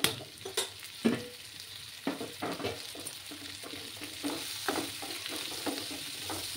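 Potatoes fry with onions in a pan over a raised gas flame, a continuous sizzle broken by repeated scraping strokes of a spatula stirring the mix up close.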